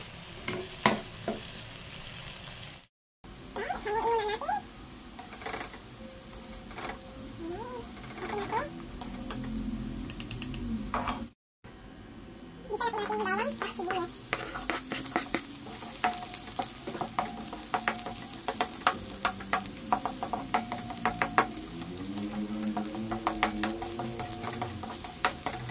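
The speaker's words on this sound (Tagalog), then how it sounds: "Frying lang muna tayo para medyo masarap." Corned beef frying and being stirred in a pan, with a steady close sizzle, clattering utensil scrapes and a voice talking over it.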